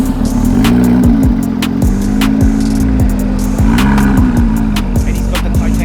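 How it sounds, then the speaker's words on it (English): A nearby sports car with a titanium exhaust drones loudly at Daikoku Parking Area in Japan, its pitch rising and dipping as it revs, with sharp clicks and rattles over the top. "he's got the titanium exhaust"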